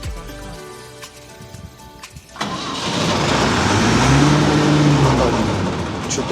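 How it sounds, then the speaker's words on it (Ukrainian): A Massey Ferguson 16 combine harvester engine, in ideal condition, cranks, catches and starts, then settles into a loud steady rumble with a rising and falling whine, close up. "Так, зараз ми запустимо двигуна."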